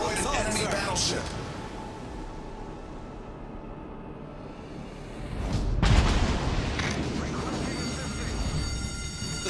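A heavy boom bursts out mid-clip as an enemy battleship is destroyed in World of Warships: Legends, rising above a steady rumble of gunfire and engine noise, with a voice talking over the battle.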